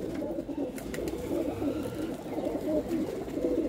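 Pigeon of a prized breed cooing at a pigeon sale in Ludhiana, a steady low murmuring coo running throughout at close range, with no one speaking.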